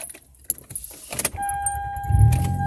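A car's engine is cranked with keys jangling nearby; the starter turns over in a few uneven bursts, then a steady tone and low rumble follow, close and fairly loud, with no one talking.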